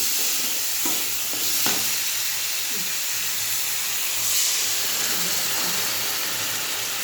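Potatoes are stirred with mustard paste in a hot pan. A low, constant sizzle and hiss runs throughout, broken by occasional scrapes and knocks of the spoon.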